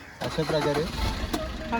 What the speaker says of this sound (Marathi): गाडी चालू केलेली आहे.